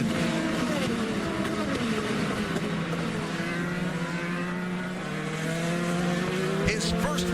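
IndyCar race car at St. Petersburg screaming loudly through the final corner toward the checkered flag, a steady high engine whine with a commentator talking over it.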